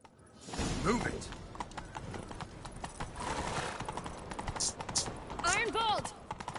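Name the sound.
horses galloping in The Witcher video game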